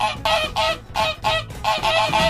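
A waterfowl gives loud, nasal honking quacks, about six or seven evenly spaced calls delivered close and clear with no other sounds.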